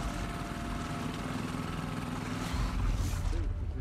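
A boat engine in The Last of Us Part II hums steadily at a low pitch, close and continuous, with water noise mixed in and a faint voice near the end.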